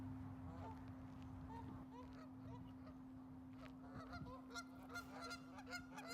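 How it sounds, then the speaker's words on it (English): Geese gathered on the ice of a frozen public fishing pond call out with a scatter of soft honks, faint and somewhat distant over a steady low hum, growing busier toward the end. "there were quite a few geese"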